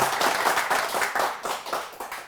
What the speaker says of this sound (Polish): za co należą się brawa